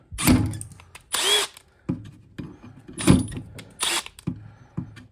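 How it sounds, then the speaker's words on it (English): A power drill bores out parts for a homemade four-tire inflation system, running in short bursts of whirring that start and stop several times at close range, with no talk. "We're just gonna get things drilled out."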